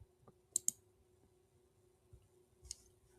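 A few faint, sharp mouse clicks while working in Canva, two quick clicks close together followed by a couple more scattered, soft clicks in a quiet room.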